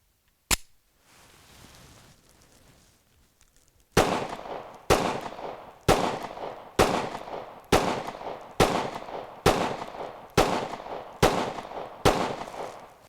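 An SCCY CPX-2 pistol fires one shot, then after a pause a steady string of about ten sharp, loud shots at roughly one per second, each ringing out briefly.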